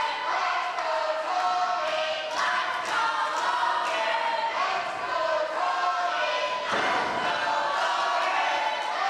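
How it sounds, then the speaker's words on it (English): Loud, continuous crowd roar at a wrestling tag team championship match at a block party event, dense and sustained throughout with a brief dip near the end before swelling again. "Just when I thought the crowd couldn't get louder."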